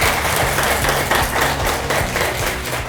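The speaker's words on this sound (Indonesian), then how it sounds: "Teman-teman semuanya, beri tepuk tangan untuk kelompok 1." A classroom group claps for group 1 after their presentation, a steady spread of many hands that holds for about three seconds at moderate loudness, with a faint voice underneath.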